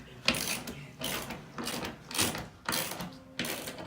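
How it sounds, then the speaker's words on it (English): A ratchet wrench removes screws in repeated bursts of rapid clicking, about six strokes in quick succession, close and moderately quiet. "Wrenching away."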